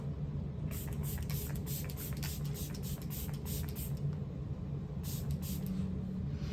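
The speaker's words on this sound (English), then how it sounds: "I used some of this really crappy setting spray that I don't like." A setting spray bottle puffs out a fine mist in a rapid series of short, airy hisses, close and steady, with a brief pause before a final few sprays.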